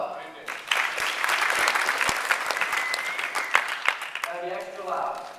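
Round of applause from an audience at a business chapter meeting, sustained clapping with sharp individual claps scattered through it and voices talking over the top near the end.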